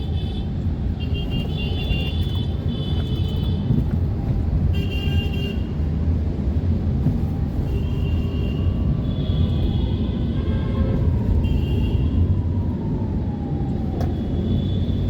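Dense rush-hour road traffic in Dhaka rumbles continuously around a Toyota Corolla, with repeated car horns honking in short bursts and longer blasts from nearby vehicles throughout.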